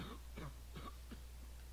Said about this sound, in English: Someone's coughing.